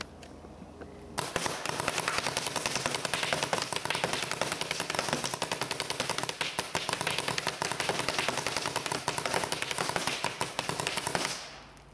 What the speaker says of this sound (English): What I'm going to do is fire 100 paintballs down there in a group and see what the group is like.